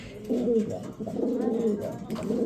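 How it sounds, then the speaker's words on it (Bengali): Spanish pouter pigeons coo up close in low, soft, rolling calls that repeat steadily across the whole stretch, with no other sounds on top. "দেখেন কত সুন্দর একটা কবুতর, মাত্র 4500 টাকা"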